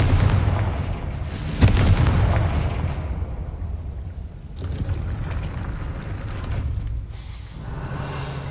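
A Confringo fire-blast spell from the video game Hogwarts Legacy goes off as a loud booming burst, followed by rumbling, crackling debris and another softer blast, all over a steady ambient game background with no speech.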